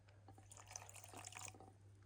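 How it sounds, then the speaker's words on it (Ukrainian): Water is poured into sugar to make syrup for raspberry jam, giving a faint, steady trickle with light splashing and drips, close by and without talk. "Цукор додаємо 50 мл води."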